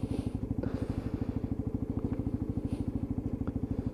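Lexmoto ISCA 125cc motorcycle idling steadily in a yard, a close, even rapid putter of regular engine pulses with light mechanical clatter and no speech.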